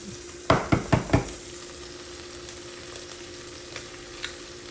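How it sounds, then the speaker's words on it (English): An egg is cracked into a hot frying pan: four quick sharp taps and cracks up close, then a steady soft sizzle with faint pops. "So I'm gonna crack the egg."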